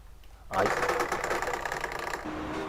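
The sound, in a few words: racing wheel vibrating and shaking desk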